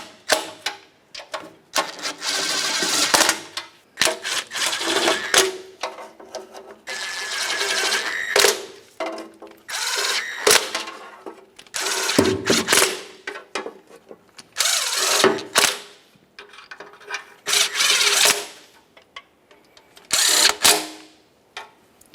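A power tool runs down oil pan bolts on a 1994-2002 Dodge Ram 2500, loud whirring bursts repeated many times with short gaps between them.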